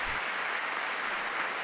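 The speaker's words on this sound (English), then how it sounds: "why are they clapping?" Broadband applause from a large audience in a legislative chamber during a presidential address to Congress, sustained and even throughout, heard at a distance with no talk over it.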